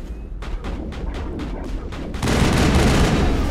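Gunshots in the video game Mass Effect: about six evenly spaced loud reports in quick succession, then a sudden broad burst of heavier, continuous blasting noise, with no voices.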